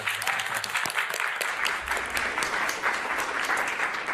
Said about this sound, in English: that's an applause line